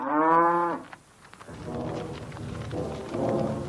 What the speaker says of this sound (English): A herd of cows in the middle of the city.